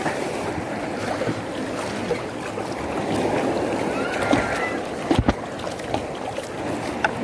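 Small fishing boat under way on open water, towing a net in strong wind, with a steady broadband churn of engine and water rushing past, wind buffeting, and a few sharp knocks near the end.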